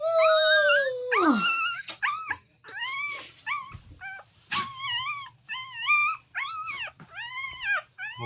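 A dog cries and whimpers while searching for something, opening with a long howl-like wail that slides down, then repeated high, quavering whines and yips at close range with no talk.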